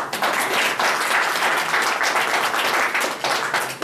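Sustained audience applause during a ministerial speech at a launch event, dense steady clapping throughout with no talk over it.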